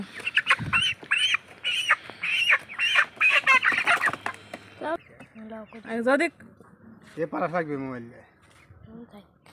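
Chickens cluck and squawk in rapid bursts up close, followed by people talking nearby, as grown chickens are about to be slaughtered.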